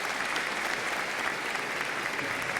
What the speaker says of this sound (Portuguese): eu peço uma salva de palmas de todos vocês